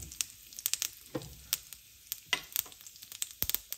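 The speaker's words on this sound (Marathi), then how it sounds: "तर इथे आपली मोहरी चांगली तडतडली की आता यामध्ये हिंग घालूया" Mustard seeds spit and pop in hot oil for a tempering, with asafoetida added. Sharp, irregular crackles burst over a quiet sizzle, close up and with no talking.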